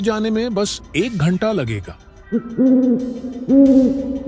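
An owl gives a few low, drawn-out hoots after a stretch of spoken narration in a Hindi ghost story set near a railway station.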